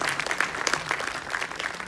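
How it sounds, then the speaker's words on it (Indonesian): An audience applauds at a Jakarta content creator community gathering with the governor, a brisk crowd of clapping hands, fairly distant and steady throughout. "boleh tepuk tangan lagi buat Pak Andika"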